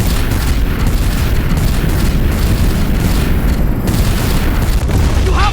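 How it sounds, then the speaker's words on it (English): Weapons fire at a giant Celestial during the ending battle of the Guardians of the Galaxy video game: a dense, continuous roar of heavy booms and blasts, loud and unbroken throughout. "Continue firing!"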